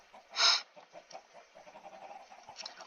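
A short burst of Minecraft chicken squawking followed by soft, scattered clucks, faint and game-like against quiet.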